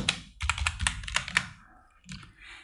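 Typing on a computer keyboard during a Photoshop typography session: a quick run of close, crisp keystrokes for about a second, followed by a few softer clicks and quiet handling sounds.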